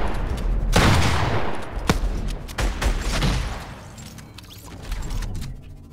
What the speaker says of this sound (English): I shot you right before you almost shot me. You could have killed me right there. I love this gun, it's awesome.